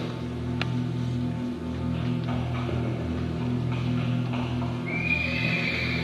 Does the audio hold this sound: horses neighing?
yes